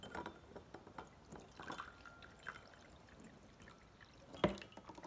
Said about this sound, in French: J'ai versé de l'eau.